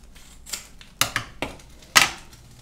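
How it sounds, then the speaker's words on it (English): Scissors snip open a packet of hops for a Craft a Brew brown ale homebrew kit, giving a few short, crisp cuts and rustles close by with no talking. "can I get the scissors please?"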